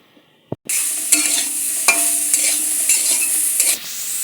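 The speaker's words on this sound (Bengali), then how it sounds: "তারপর কিছুক্ষণ ভাজতে হবে। সোয়াবিনগুলো লাল লাল করে ভেজে নিতে হবে।" Soybean chunks with turmeric frying in a pan and stirred steadily, a continuous close sizzle broken by repeated scraping strokes of the spoon, preceded by a brief clack.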